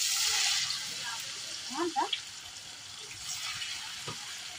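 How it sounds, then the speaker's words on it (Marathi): Marinated chicken 65 pieces deep frying in hot oil in a village-style home kitchen, giving a steady soft sizzling hiss that is strongest at the start, with brief voices and a few light clinks. "आम्ही चिकन 65 चे पीस तळून घेतोय"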